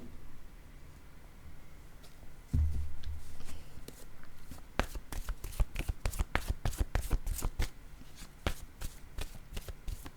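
A deck of tarot cards shuffled by hand, close and fairly loud, first a low rustle and then a long run of quick, sharp riffles and slaps, with no talking.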